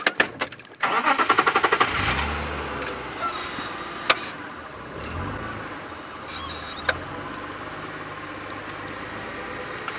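A safari vehicle's engine cranks in a quick series of bursts, catches and settles into a low idle, with a couple of sharp knocks and clicks over the steady rumble.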